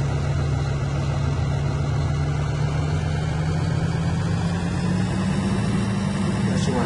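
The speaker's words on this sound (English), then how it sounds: "of course, start the tractor" Tractor engine in Farming Simulator 2013 drones steadily at a low pitch, a constant loud hum that slowly rises in pitch, with no talking over it.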